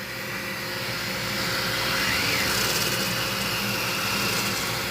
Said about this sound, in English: we're just getting the sander ready